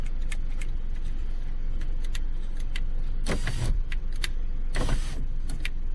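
A 2009 Scion tC sunroof motor being tested during a repair for sunroof problems, giving two short whirring, grinding mechanical bursts amid light clicks and rattles in a car interior.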